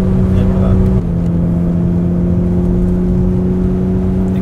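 A BMW E36 M3 engine holds a loud, steady drone with firm harmonics; the pitch drops slightly once near the start and then holds high and constant, with the engine alone throughout.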